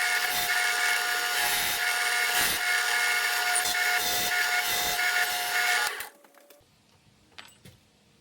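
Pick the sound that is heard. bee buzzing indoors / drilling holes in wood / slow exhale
drilling holes in wood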